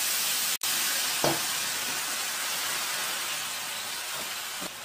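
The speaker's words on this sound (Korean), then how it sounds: "고기가 어느 정도 익었을 때에 버섯을 넣고 볶아주시는데" Meat and mushrooms stir-fry in a pan with a dense, steady sizzling hiss and a couple of faint stirring scrapes, close-up and uninterrupted.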